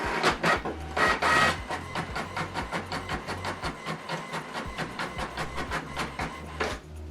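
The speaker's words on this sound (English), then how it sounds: "So we are printing double-sided, black and white, or monochrome if you like." An HP printer runs a double-sided black-and-white print job, its mechanism churning in a steady rapid rhythm of feed pulses and whirring, loud and close with no voices.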